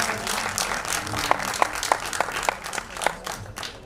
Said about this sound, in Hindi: दोस्तों ताली तो बजाओ यार